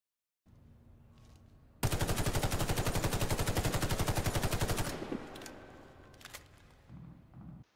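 GU-2 weapon in the video game Warface letting off a long, loud burst of fast, regular shots lasting around three seconds, followed by a fading echo and scattered small mechanical clicks.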